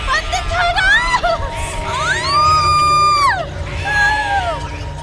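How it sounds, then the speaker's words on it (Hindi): Many voices scream and shout together in a loud, chaotic crowd, with shrill rising and falling wails standing out near the start and middle, a horror-story effect with no clear words. "इतना सारा लोग के चिल्लाए की आवाज हमरा से ही सहन नहीं क्या"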